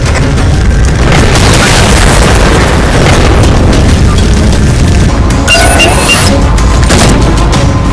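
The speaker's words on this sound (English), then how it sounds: "Target those phantoms for the railgun to shoot down." In Halo 4, a railgun fires on Phantom dropships, and the hits set off a continuous, very loud barrage of deep booming explosions and crashing blasts with a sharp burst partway through.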